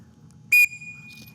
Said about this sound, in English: the 1 whistle command that signifies shoot